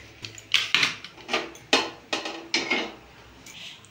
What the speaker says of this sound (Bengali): ঠান্ডা হোক, আমি এদিকে কড়াই বসিয়ে দেব।